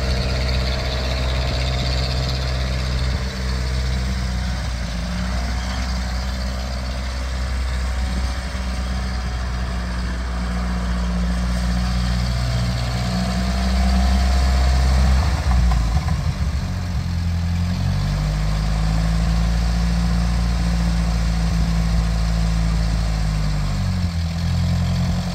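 An antique Ferguson TEA20 tractor engine in need of carburetor work runs continuously and close by, a loud low throb with slight shifts in pitch as the engine rises and settles.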